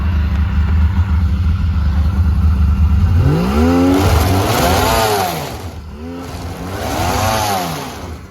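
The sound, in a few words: Polaris snowmobile engine revving, track spinning while stuck in snow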